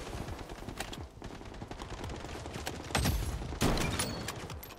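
Rapid gunfire from the online shooter game Blood Strike crackles in dense bursts throughout, close and loud, with two heavier blasts near the end; no talking over it.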